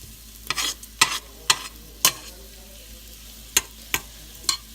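Shredded beef for ropa vieja fries in a pan, a low steady sizzle punctuated by sharp spatula scrapes and clinks as it is stirred, several distinct strokes spaced irregularly.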